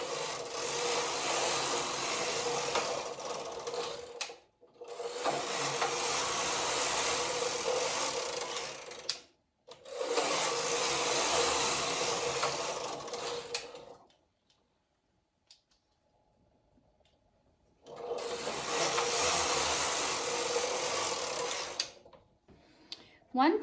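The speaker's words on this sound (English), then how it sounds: "spend a little bit of time at the knitting machine and keep knitting some beautiful" A knitting machine works fingering weight fabric in long, steady rasping carriage passes, about five seconds each with short pauses between, close and loud, and one longer quiet gap before the last pass.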